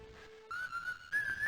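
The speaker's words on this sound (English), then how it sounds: "walking a couple blocks and whistling a particularly annoying tune I had composed" Whistled tune in the game Normality, a short run of a few bright notes, with a low held note, then a jump to higher sustained notes, clear and close with no talk.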